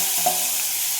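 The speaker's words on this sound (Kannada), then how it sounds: "ಅದೇ ಬಾಣಲಿಗೆ ಮತ್ತೆ ಒಗ್ಗರಣೆ ಹಾಕ್ಕೊಳ್ಬೇಕು" Tempering sizzling in a frying pan, a brief, even hiss of hot oil with a faint clink near the start.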